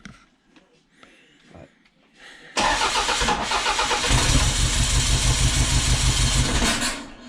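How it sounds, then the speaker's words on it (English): A Toyota's starter cranks with a brief whir, then the engine catches and runs loud and boggy, a rough steady idle close by, with quiet voices and handling noises before it starts. "See, that's your starter."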